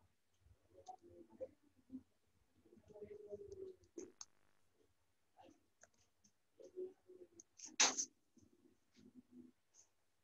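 Faint, scattered mouse clicks on a computer while editing a document, a few isolated sharp ticks in a quiet room with one louder click standing out.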